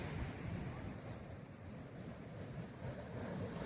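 Sea waves wash onto a shore in a continuous broadband roar mixed with wind buffeting the microphone, fairly faint and steady with no speech.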